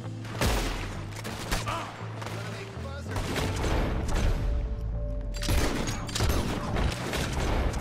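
Dense gunfire from a shootout in Red Dead Redemption 2, a sustained fusillade of close and distant shots with heavy low rumble, running throughout under a game soundtrack, with a voice speaking briefly.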